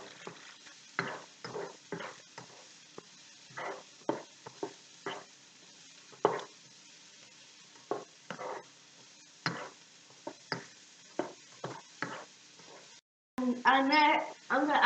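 Spring onions and peppers being stirred in a frying pan, with a spoon scraping and tapping in a steady run of short strokes over a faint sizzle, close and fairly quiet, with a brief burst of talk at the end.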